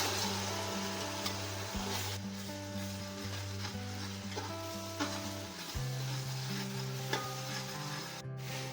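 Ground onion and chili paste fries and gets stirred in a pan with garlic paste for chicken biryani, a constant close sizzle with scraping strokes of the spoon and a low hum running underneath.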